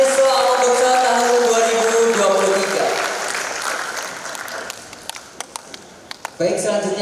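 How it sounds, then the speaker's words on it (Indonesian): Audience at a 2023 foundation graduation ceremony applauds the graduates, loud clapping under an announcer's voice that fades into a few scattered late claps, then the announcer speaks again. "Sekali lagi beri tepuk tangan yang meriah untuk wisudawan Yayasan Siswa Amang Bekso tahun"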